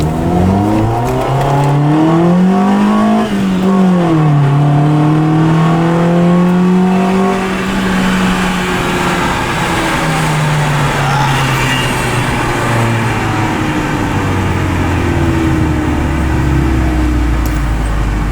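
A Honda 1.6 ies car engine with a half exhaust revs loud and close, its pitch climbing and dropping through several throttle blips before settling into a lower sustained drone.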